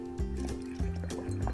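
Air blown through a drinking straw just above the water in a glass, giving a few short bubbling, watery gurgles with a rising-falling tone, close and fairly faint, with no talk.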